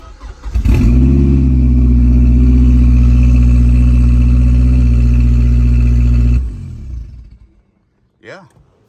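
A Mazdaspeed3 engine cranks and starts, then holds a loud steady revving drone for several seconds before cutting out abruptly, followed by quieter background sounds.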